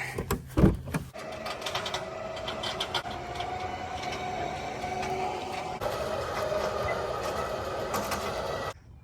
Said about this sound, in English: About to winch it up.